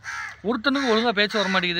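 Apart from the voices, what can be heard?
crow cawing outside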